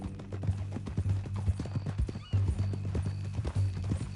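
Horse hooves clip-clop in a steady walking rhythm in Red Dead Redemption 2, close and distinct, with a low ambient hum beneath and a brief lull partway through.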